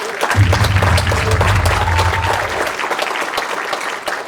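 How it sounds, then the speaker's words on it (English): Audience applause fills the room in a dense burst of clapping that gradually tapers off, with a low voice briefly audible under it near the start. "give yourself a round of applause for being there for them"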